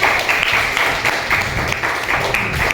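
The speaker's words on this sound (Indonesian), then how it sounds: "Oke, tepuk tangan." A classroom of high school students gives sustained, fairly loud applause, with steady clapping and slight rhythmic swells throughout.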